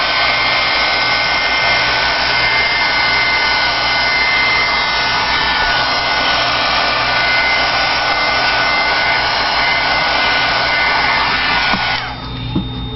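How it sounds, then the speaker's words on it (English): A heat gun blows steadily over a freshly stenciled Christmas tag, a loud, even rushing whoosh held close for about twelve seconds before it cuts off abruptly. "I'm going to hit this with the heat gun real quick."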